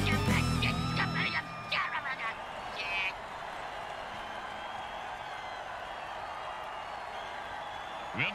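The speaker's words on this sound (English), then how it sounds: "And the crowd goes wild." A crowd roars in a steady, broad wash of cheering after a touchdown in an American football video game, continuing beneath a voice that talks over the first seconds.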